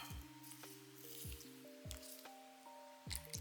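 Milk is poured over chia seeds for pudding, giving a series of soft wet squishes and drips with small gurgling pours, quiet and close.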